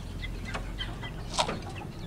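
Young chickens around two months old cluck in short, scattered bursts near a feeder on a farm, close by and fairly clear, with one sharper call standing out.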